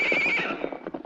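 A horse whinnies in a radio drama effect, with a long high neigh followed by a quick run of hoofbeats, close and loud throughout.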